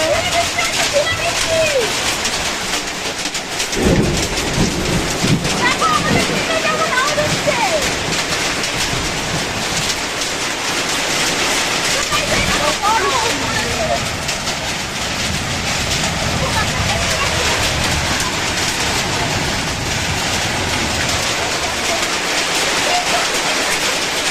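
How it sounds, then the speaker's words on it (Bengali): Hailstones falling with heavy rain during a hailstorm make a steady, dense, close patter across the whole stretch, with a voice speaking intermittently underneath. "দেখো আমাদের এখানে কিন্তু শিলাবৃষ্টি হচ্ছে, দেখো কত শিল পড়ছে"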